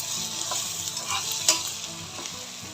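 Tomato masala with chili powder, coriander powder, garam masala, fresh coriander and mint sautéing loudly in a pan for mushroom biryani, a dense close sizzle with rhythmic stirring scrapes.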